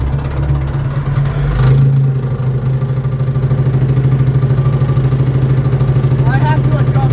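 A brush cutter engine running in slow third gear with the PTO engaged, a close, loud, steady low rumble and clatter that holds throughout, with a brief shift in pitch early on.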